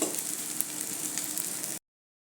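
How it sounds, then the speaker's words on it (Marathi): Poha thalipeeth frying in oil on a pan, a steady close sizzle with faint crackles that runs unbroken, then cuts off abruptly. "परत या बाजूलाही तेल घालूया आणि दुसरी बाजू ही व्यवस्थित भाजून घेऊया"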